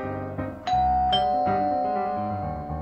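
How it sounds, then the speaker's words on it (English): A doorbell chimes a sustained ding-dong with ringing tones that linger and decay, clear and alone without any voices. "I rang the bell on the stick house."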